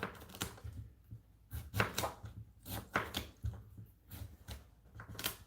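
A kitchen knife slices cucumber on a cutting board in irregular crisp chops, close and clear, with short pauses between cuts.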